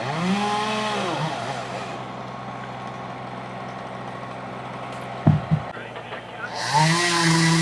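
A chainsaw roars steadily while a tree service crew makes a back cut in a tree, loud and continuous, with its pitch shifting near the start and end and a sharp knock partway through.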